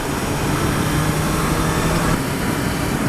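A 2016 Yamaha FZ6R motorcycle engine runs steadily under a ride, a loud continuous drone mixed with wind rush, with no pauses.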